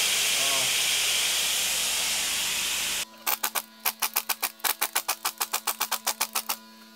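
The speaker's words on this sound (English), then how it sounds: "when the compressor line blew off" A compressed air line blows off during BMW N47 engine timing chain work, first as a loud, continuous hiss for about three seconds, then cutting into a rapid series of sharp, regular bursts.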